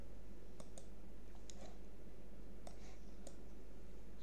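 Quiet, sharp single clicks of a computer mouse in LTspice come at irregular intervals, about six over a few seconds, close and faint against a low steady background hum.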